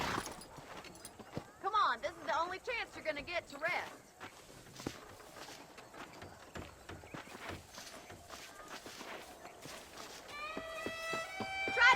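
Horse hooves clip-clop in the video game Red Dead Redemption, a string of rhythmic footfalls across a ranch setting, mixed with game sound effects and occasional voices.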